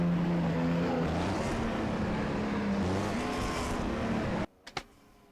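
A race car in the SCRAL Racing League at Daytona does a celebratory burnout, a loud continuous engine roar with shifting pitch that cuts off abruptly near the end, followed by a couple of faint knocks.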